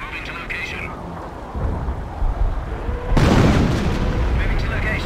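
Artillery rumbles and booms in the Company of Heroes video game during the Hill 112 mission near Caen, deep distant thuds building into a loud sustained barrage, with radio-style talk early on.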